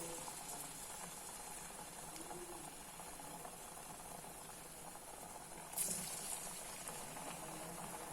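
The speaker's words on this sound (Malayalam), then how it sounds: "ഈ നടുക്ക് മാത്രം ഒന്ന് ഇട്ട നമ്മളിത് എണ്ണയ്ക്കകത്തോട്ടിടാം. വറുത്തെടുക്കണം." Jackfruit seed badusha deep-frying in oil gives a faint, steady bubbling hiss that runs evenly throughout, with a brief louder spatter near the end and no talking.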